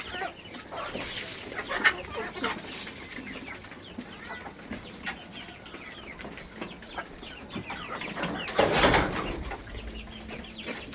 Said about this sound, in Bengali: মুরগিগুলাকে যখন খাবার দেই